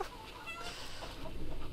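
Chickens cluck after being kicked in the video game Hollow Cocoon, a brief flurry of squawks and clucks over a dense game soundscape, growing louder toward the end.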